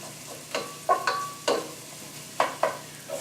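Garlic frying in a pan, a soft sizzle with several short scraping stirs in an uneven rhythm, close and quiet.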